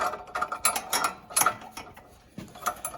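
Bolts being screwed into the exhaust of a Briggs and Stratton engine by hand tool, with quick irregular ratcheting clicks and small metallic ticks, fairly close and moderately quiet.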